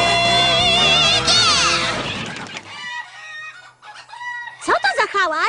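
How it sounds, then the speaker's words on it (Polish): Cartoon chickens cluck and crow in an agitated flurry, loud and close, with squawks rising and falling and a faint low tone underneath, in an animated pony farm scene where the hens run off. "Fluttershy, kury ci uciekają!"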